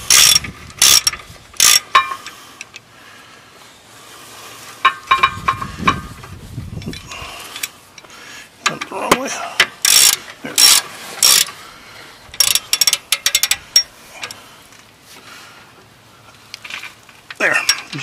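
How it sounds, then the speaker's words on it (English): Ratchet wrench clicking in repeated bursts while tightening 18 mm rear brake bolts on a 2001 Ford Excursion, sharp metallic ratcheting close up, with short pauses and a few low clunks between runs. "Now when you tighten these, be careful not to tighten them like Superman or Hercules"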